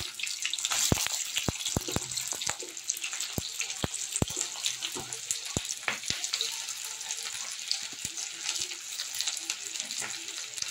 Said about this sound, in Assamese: পিঁয়াজখিনি ধুনীয়াকৈ ভাজি ল'ম